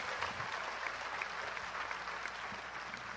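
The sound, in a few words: applause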